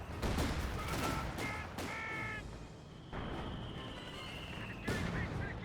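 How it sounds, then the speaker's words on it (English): Mortar and artillery fire in Company of Heroes 2, a rapid run of close blasts and booms early on, then a pause and another burst near the end, with battlefield noise and voice callouts mixed in. "Mortar range a little bit short, does not hit the engineers."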